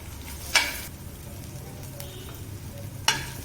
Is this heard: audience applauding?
no